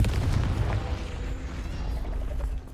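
Confringo explosion spell in Hogwarts Legacy, a heavy, low booming blast that rolls and rumbles at moderate loudness before fading.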